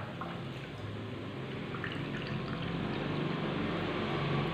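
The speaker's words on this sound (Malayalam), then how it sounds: "250 ml കപ്പിൽ 1/2 കപ്പ് വെള്ളം നമുക്കിതിലേക്ക് ചേർത്ത് കൊടുക്കാം." Water pours into a rice flour and mashed banana mixture, a soft, continuous trickling and splashing that stays close and fairly quiet, with no talking.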